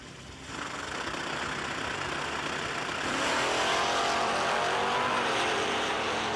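A drag race car engine roars on a racetrack at a no-delay nationals meet, a loud, steady rumble that swells and grows louder partway through, heard from a distance with no talk.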